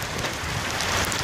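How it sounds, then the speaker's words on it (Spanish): Heavy rain pours down steadily in Siloé, a dense, continuous hiss and patter that fills the scene without pause, loud and close, with no voices. "Fuerte lluvia"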